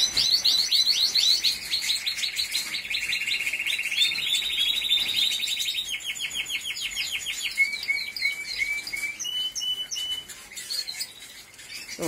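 A caged bird in a home aviary sings a long, bright run of rapid chirps, trills and warbles, close and loud for the whole stretch, with other birds faintly behind.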